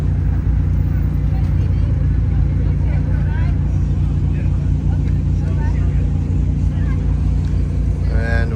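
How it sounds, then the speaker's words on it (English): Steady low engine rumble of a McLaren 720S supercar pulling away at an exotic car gathering, continuous and fairly loud with crowd chatter and voices faintly mixed in. "Looks like we also have another 720S leaving."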